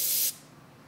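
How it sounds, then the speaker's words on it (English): Carburetor cleaner sprayed onto a two-stroke engine carburetor: one short, loud aerosol hiss for about a third of a second, then cutting off to quiet. "just using the carburetor cleaner"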